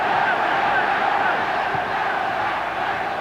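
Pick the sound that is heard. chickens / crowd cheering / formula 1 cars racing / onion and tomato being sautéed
crowd cheering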